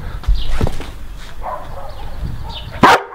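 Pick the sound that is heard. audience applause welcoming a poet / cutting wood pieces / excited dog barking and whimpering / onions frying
excited dog barking and whimpering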